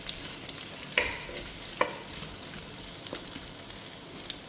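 Chopped garlic fries with ginger in a pan, a quiet even sizzle with a couple of crisp taps and light scrapes from stirring.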